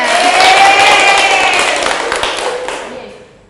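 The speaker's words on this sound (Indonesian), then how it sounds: "Tepuk tangan buat temennya" A classroom of students applauds a classmate during a micro-teaching lesson, a dense burst of clapping with a few cheers that swells early and then fades out over a few seconds.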